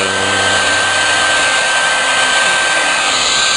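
A heat gun blows a loud, steady whirring stream of hot air to shrink thin heat-shrink tubing, running continuously and close.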